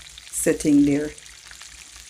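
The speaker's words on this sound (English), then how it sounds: "you're frying it on medium" White snapper coated in flour sizzles as it fries Jamaican style in oil over medium heat, a steady crackle running under a person talking close by.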